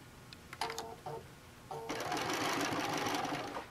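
A sewing machine stitches over fabric tucks on a gadget caddy, with a couple of brief starts and then a steady continuous run of close, even whirring that fades out at the end.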